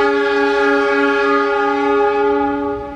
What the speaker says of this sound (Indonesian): kereta api Argo Wilis diberangkatkan kembali dari jalur 1 stasiun Urung Bandrek